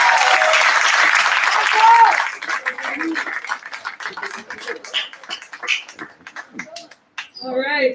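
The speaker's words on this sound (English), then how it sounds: "Ladies and gentlemen, a round of applause for the class of 2021." Loud applause from a graduation audience for the class of 2021 fills the opening seconds, then thins into scattered claps, cheers and talk before a voice speaks.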